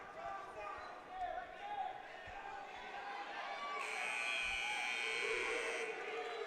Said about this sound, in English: Buzzer sounds over there on mat number 1